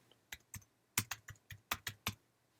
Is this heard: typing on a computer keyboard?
yes